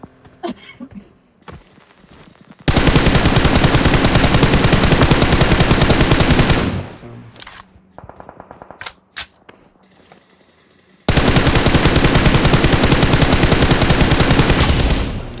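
Gunfire in the mobile battle-royale game PUBG Mobile: two long, loud, sustained bursts of automatic fire, separated by a quieter stretch with a few sharp isolated shots.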